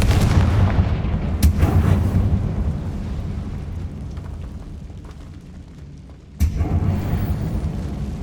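Loud booming blasts of the Confringo fire spell in Hogwarts Legacy tearing through spiders: a heavy rumbling explosion, a sharp burst near 1.5 seconds, a long fading roar, then another sudden blast about 6.4 seconds in.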